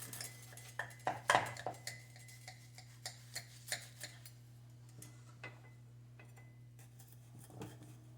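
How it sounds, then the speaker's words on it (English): A knife and server cut through a deep-dish chicken pot pie with a biscuit crust, giving a series of quiet clinks and taps against the dish, busiest early and then thinning out, over a low steady kitchen hum. "So now we're going to cut this one up."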